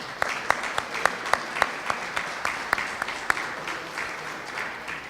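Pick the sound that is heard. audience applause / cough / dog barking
audience applause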